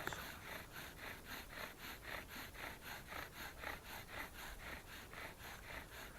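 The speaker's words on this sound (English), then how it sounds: "using the full length of the bow, moving it backwards and forwards" Steady rhythmic rasping of a bow drill spinning against wood, quick even back-and-forth strokes, close and fairly quiet.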